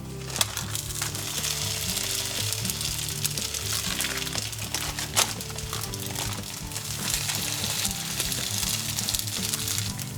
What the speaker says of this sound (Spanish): Y ya tenemos una sartén con aceite al fuego